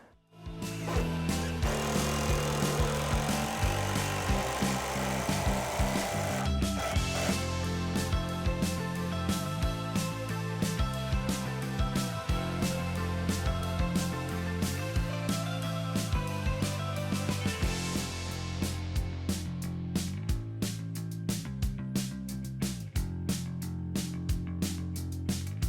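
A power driver sinks 4.5-inch lag screws into a rim joist of a 150-year-old farmhouse, its motor whining steadily with rapid repeated impact rattling, loud and close for the whole stretch.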